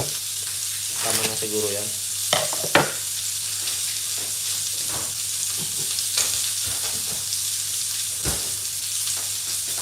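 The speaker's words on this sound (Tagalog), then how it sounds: "I-boil lang natin siya para at least maluto yung longganisa natin" Longganisa simmering and sizzling in a pan of water for pork binagoongan with gata, a steady bubbling fry with occasional stirring clinks, a brief spoken remark over it.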